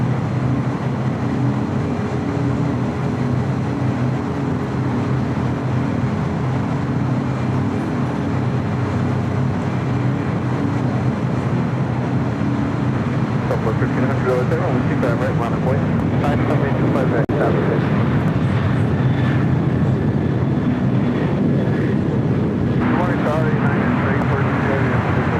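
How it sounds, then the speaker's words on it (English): A United Boeing 737-800 taking off from LAX runway 25 left toward Denver rumbles with a continuous, loud engine roar that swells in the second half. Someone speaks over the noise. "Next takeoff is United 1339 taking off to Denver on a"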